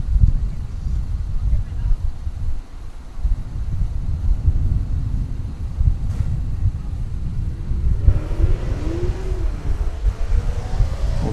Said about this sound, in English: Some speeding cars in the background.